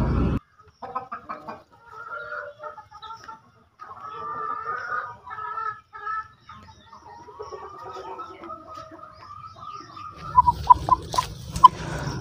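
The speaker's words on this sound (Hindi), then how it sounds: "तो दोस्तों, यहाँ पर मैंने उस मुर्गे को पकड़ लिया है जिसके बहुत ही ज़्यादा दिक्कत है।" A rooster with a wound condition, held in the hand, gives a series of soft clucks and short calls up close, ending in some rustling and handling noise.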